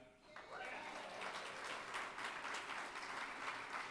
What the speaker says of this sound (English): those rounds of applause, that's a great round of applause